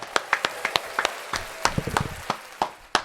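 A few podcast hosts clap together at a studio table, giving a short burst of scattered, uneven claps, close and fairly quiet, with brief murmurs between them.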